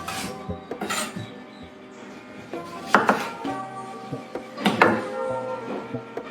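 Vegetables being chopped on a board in a home kitchen while a salad is prepared, with irregular knife knocks and clinks of dishes and utensils, close and moderately loud, mixed with some kitchen clatter.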